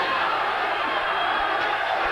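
Boxing arena crowd at a heavyweight championship fight roaring in a steady, dense wall of cheering throughout, with no clear breaks.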